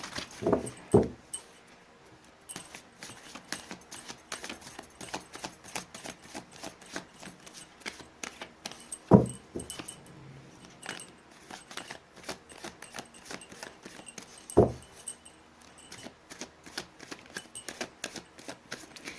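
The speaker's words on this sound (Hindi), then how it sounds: "मैंने कर ली है कार्ड्स की सफलिंग" Tarot cards being shuffled by hand, heard as soft, quiet papery flicks and clicks, with three sharper riffling bursts spread through the stretch.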